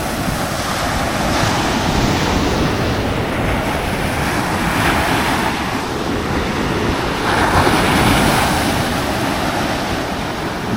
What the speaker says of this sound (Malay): Kuat ombak.